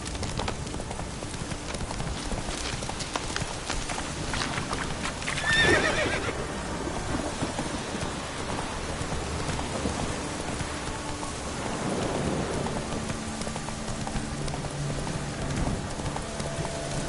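Geralt's horse Roach gallops in The Witcher 3, with steady rhythmic hoofbeats, a whinny partway through, and a patter of rain underneath.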